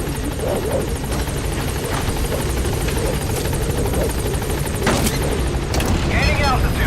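A helicopter's rotor and engine roar steadily and loudly at a landing zone in the Metal Gear Solid V video game, with scattered booms and gunfire-like bangs and a voice speaking over the noise.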